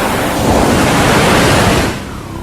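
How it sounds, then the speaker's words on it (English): Ocean waves roll in as a loud, broad hiss of surf that swells for a couple of seconds, then drops away abruptly toward a quieter wash. "When you hear the sounds of the ocean"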